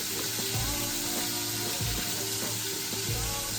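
Mushroom pieces fry in a hot pan, giving a steady close sizzle with faint crackles and a few soft clinks as they are turned, no voices.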